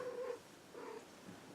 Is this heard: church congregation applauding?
no